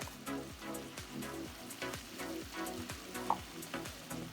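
Chicken curry masala fries in a pan with a soft, steady sizzle, punctuated by regular stirring strokes at a moderate, even pace.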